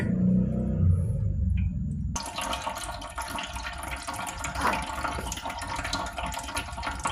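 Water trickling steadily out of a cheesecloth bundle of palm fibre, a soft continuous running and splashing that turns noticeably brighter and fuller after the first couple of seconds, close and without speech.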